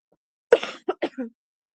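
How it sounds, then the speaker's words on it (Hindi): A single close cough followed by two or three shorter coughs in quick succession, in an otherwise silent room. "खांसी बहुत ज्यादा हो गई थी"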